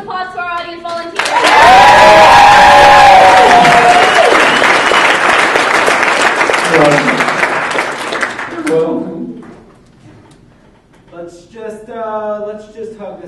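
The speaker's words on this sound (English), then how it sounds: "let's give a big round of applause to our audience volunteers" A big burst of audience applause for volunteers at a college improv comedy show, loud and dense, swelling in quickly and holding for several seconds before fading, with voices talking before and after it.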